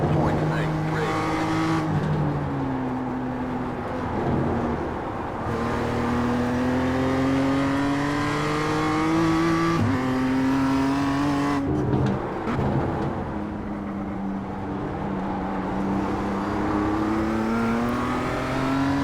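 A race car lapping the Ledenon circuit, engine revving and shifting through rising and falling tones with tires squealing through corners, loud and continuous from on board, with a voice talking over it.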